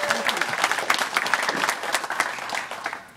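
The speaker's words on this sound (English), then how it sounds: "First of all, round of applause." Audience applause at an RC car race event held at a private backyard track: a steady burst of many hands clapping from a mid-sized crowd, a few scattered voices mixed in.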